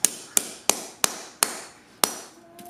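Hammer driving nails into carpet tack strip on a concrete floor: six sharp, close strikes at a steady, even pace, each ringing briefly, with no talking.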